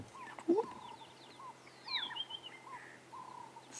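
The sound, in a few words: orioles singing in the dawn chorus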